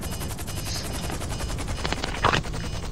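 Rapid, pulsing helicopter rotor chop from the video game GTA V thuds steadily throughout, loud and close, with a brief sharper burst near the end.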